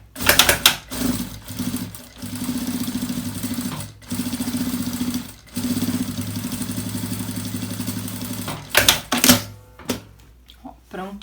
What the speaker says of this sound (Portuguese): aqui eu passo uma costura de segurança